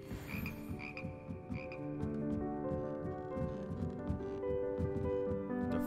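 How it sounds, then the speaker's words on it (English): A magical frog choir in the video game Hogwarts Legacy croaks in layered, harmonised tones, with a dense, continuous chorus of deep croaks and brighter chirps that holds steady throughout. "Here perch the slimy yet symphonic frogs that comprise the Hogwarts Frog Choir."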